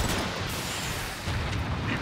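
A bomb goes off in Transformers: Fall of Cybertron, a loud, dense and sustained explosive rumble with a deep boom that carries through the whole short moment.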